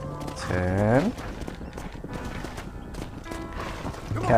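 Horse hooves clip-clopping in the Red Dead Redemption video game, a steady run of hoofbeats under game sounds, with a voice talking at the start and again near the end.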